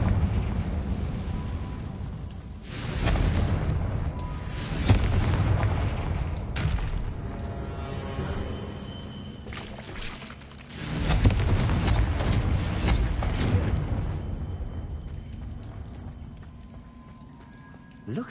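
Confringo fire spells in Hogwarts Legacy on PS5 go off as two loud booming blasts, each with a long rumbling crackle like rain on stone, inside an old room reached by a staircase. Game voices talk in between.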